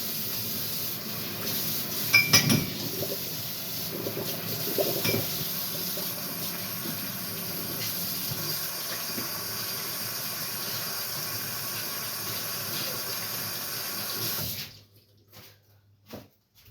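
Hands washed with soap under a running kitchen tap while making Italian bread: a steady hiss of flowing water splashing at close range, with brief louder splashes early on, cutting off abruptly near the end.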